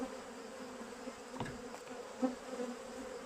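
Honeybees drone steadily around an open beehive with frames of honey stores and a hive reducer, a dense, continuous close buzz with occasional louder passes of single bees.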